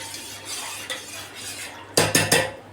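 A spoon stirs pani puri water with boondi, first swishing softly through the liquid and then knocking sharply against the vessel three times in quick succession near the end.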